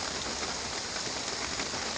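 Heavy rain pouring down steadily around a truck on a slippery road, a dense, constant hiss of drops with no break, fairly even in level throughout.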